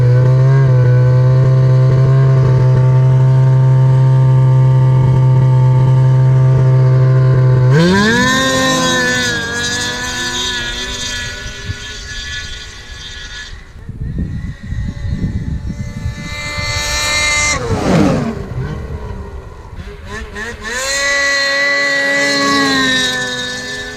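A Ski-Doo 850 snowmobile fitted with a Speedwerx standard muffler, first holding a loud, steady drone at 4,000 RPM, then revving and making several roaring drive-bys that swell and fade.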